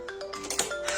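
A telephone ringtone chimes in a quick run of bright repeating electronic tones, moderately loud and alone before anyone answers.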